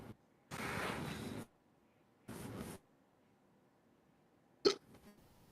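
Hiccups from a person, one short sharp catch near the end standing out against quiet room tone, preceded by two longer stretches of soft breathy noise.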